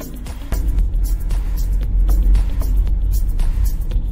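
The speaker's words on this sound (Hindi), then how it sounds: "बड़ा मुश्किल से निकला ट्रैफिक से" A car moving through road traffic near Siliguri and Jalpaiguri, giving a steady low engine rumble with passing vehicle noise and faint scattered honks, continuous and close.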